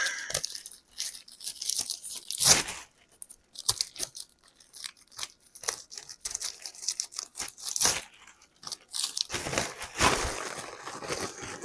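Duct tape tearing off the roll in quick bursts, crackling and ripping at close range with pauses between pulls, and no talking.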